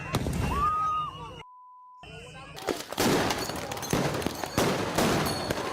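Fireworks going off during a street riot in Minneapolis: a dense, chaotic run of sharp bangs and crackling bursts over crowd noise, preceded by a brief voice and a steady electronic beep.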